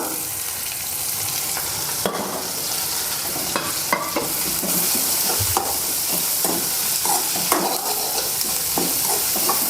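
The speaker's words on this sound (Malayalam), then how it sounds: "ഒപ്പം സവാള ഇട്ട് കൊടുക്കാം ഇഞ്ചി വെളുത്തുള്ളി ഇട്ട് കൊടുക്കാം" Onion, ginger and garlic sauté in a pan for a papad curry, a dense steady sizzle broken by repeated clicks and scrapes of a spoon stirring against the pan.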